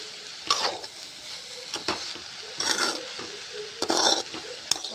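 Onion and tomato masala is stirred in a pan, giving a soft background sizzle broken by several bursts of scraping and clattering from a utensil against the pan.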